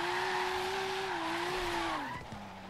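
A Rocket Bunny Boss V2 Nissan Silvia drifting in Forza Horizon 3, engine held at a steady high whine with tires squealing, then the revs dropping as the slide ends.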